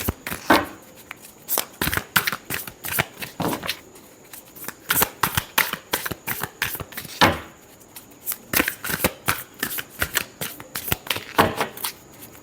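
Tarot cards shuffled by hand, a close, crisp series of riffling flicks and slaps in irregular bursts over several seconds, with no voices.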